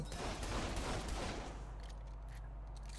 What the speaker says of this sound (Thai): แหมปืนกระสุนระเบิดนี่มันแจ่มจริง